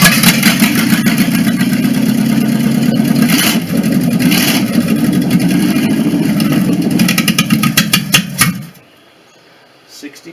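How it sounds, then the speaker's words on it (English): An old engine in a 1959 Chevrolet Bel Air, fired up after sitting unused for years, runs loud and rough, revving unevenly and close, then cuts out abruptly near the end. "It's an engine that hasn't been fired up in years."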